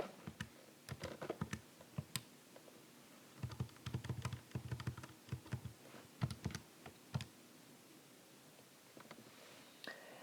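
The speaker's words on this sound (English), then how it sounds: "And type all that stuff in." Fingers type on a computer keyboard while figures for an annuity calculation are entered, quick clusters of light clicks in short bursts with pauses between, close and fairly quiet, no talking.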